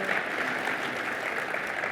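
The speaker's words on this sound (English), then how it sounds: "Give them a big applause for sharing their experience" A conference session audience claps steadily and densely throughout, a continuous wash of applause at moderate distance with no voices standing out.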